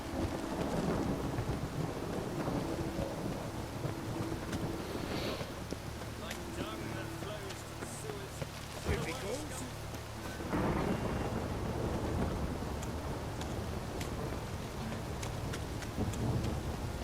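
Steady rain pours in a stormy scene of The Witcher 3 video game, with deep thunder rumbles rolling under it and a voice speaking intermittently over the downpour.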